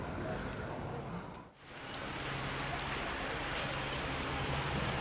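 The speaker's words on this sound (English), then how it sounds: "It's pouring down with rain" Heavy rain pours down steadily in a broadband hiss, loud and close, with a brief dip in the middle before the downpour resumes at full strength; no talk is heard.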